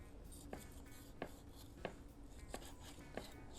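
A knife cuts through a cast iron skillet ribeye cooked medium rare, giving five evenly spaced, faint slicing strokes, each one short and crisp, heard alone.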